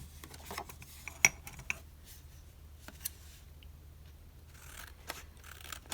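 Scissors cut paper for a journal page, quiet close snips and crisp clicks scattered irregularly, with faint rustling in between and no talking.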